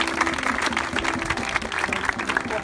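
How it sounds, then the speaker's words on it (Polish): Dense audience applause at a 15 July 2018 gathering: many hands clapping continuously at moderate loudness, a steady wash of claps with no break and no clear voices over it. "Wielkie brawa!"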